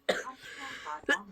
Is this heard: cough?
yes